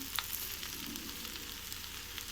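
Raw banana slices deep fry in hot oil, giving a steady, close sizzle with faint crackles throughout and no talk.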